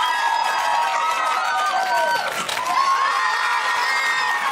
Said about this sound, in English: you clap at the team you think won that debate